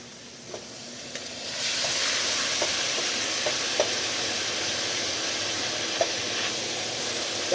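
Ground beef and sausage frying in a pan, a steady close sizzle that jumps louder early on, with occasional clicks of stirring and a constant hiss underneath.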